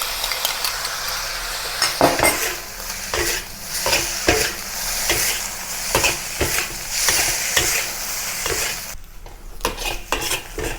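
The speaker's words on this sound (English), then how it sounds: "Now add the stir fry sauce that we have prepared gradually. And let the rice absorb all the seasonings." Basil fried rice being stir-fried with sauce in a wok, a close, continuous sizzle broken by regular scraping and clanking strokes of a metal spatula, with a brief quieter gap near the end.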